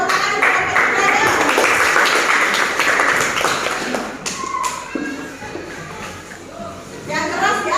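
Classroom applause for a student group, steady clapping from many hands filling the room for several seconds before tapering off into shuffling and a few voices.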